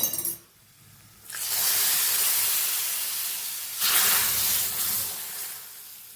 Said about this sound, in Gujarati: આ વઘાર આપણે ઉમેરી દઈશું ઉપરથી